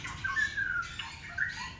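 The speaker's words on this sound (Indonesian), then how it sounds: "Ini dia burungnya, bosku" A bird gives a few harsh, close squawks in a short burst, loud against faint background noise.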